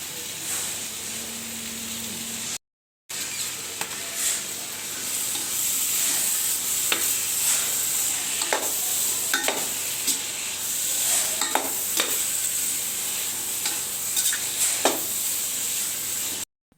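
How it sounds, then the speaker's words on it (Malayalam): Tomato masala sautéing on a gas stove for Malabar chicken dum biryani, a steady sizzle and hiss with repeated scraping stirs and small spatula knocks, close and continuous, with one short break near the start. "ഞാനിവിടെ ഗ്യാസ് അടുപ്പായതുകൊണ്ടാണ് ഇങ്ങനെ വഴറ്റിയെടുക്കുന്നത്."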